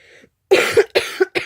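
A few close, harsh coughs in quick succession after a brief faint breath, loud and abrupt.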